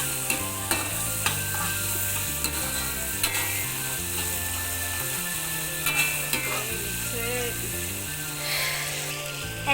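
Tomato and curry leaves are stirred in a hot pan for a fish curry, a constant loud sizzle broken by scraping strokes and occasional clinks of the utensil, with faint background music humming underneath.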